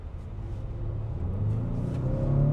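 A 2025 Acura RDX A-Spec Advance engine hums and then climbs in pitch as it accelerates in sport mode, the revving growing steadily louder over a couple of seconds.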